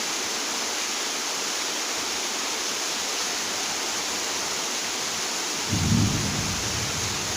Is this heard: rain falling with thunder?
yes